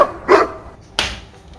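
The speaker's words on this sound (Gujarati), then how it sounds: "કૂતરાનો ભસવાનો અવાજ" A dog gives two sharp, loud barks close at hand, the second coming about a second after the first, with quiet between them and no talking.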